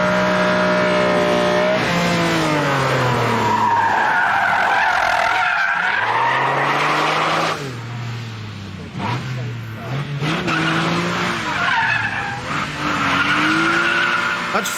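A Ferrari on a test drive skids with long wailing tire squeal and a roaring, revving engine that rises and falls, loud and sustained, with someone talking over it throughout.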